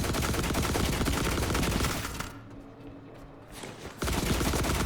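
Gunfire in The Last Caretaker, dense rapid automatic shooting at close range that drops away for a moment, then resumes just as loud.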